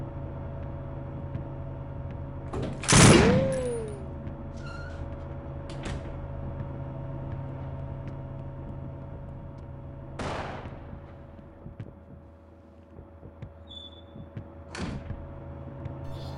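A door in the SWAT 4 game bangs with a loud close slam, followed by a few fainter thuds and knocks spread over a low steady hum.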